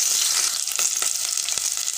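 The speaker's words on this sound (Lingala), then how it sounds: "Yango wana na kobanda kokalinga nani yambo dongo dongo na biso." Okra (dongo dongo) fries in a pan with a close, steady high sizzle and spitting crackle, with faint stirring taps throughout.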